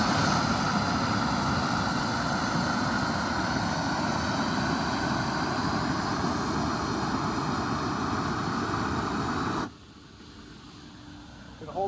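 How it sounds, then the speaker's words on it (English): A roofing torch heats a trowel for flat-roof cap sheet flashing, giving a loud, steady, broadband roar that holds for about ten seconds, then cuts off abruptly, leaving a quieter background. "We're going to heat up our trowel before we do the next part."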